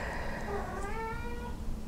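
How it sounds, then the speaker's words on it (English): A small cat meows a few times in quick succession, the calls close and fairly clear over a steady low background hum, with no one talking. "I have a little kitty cat that needs attention."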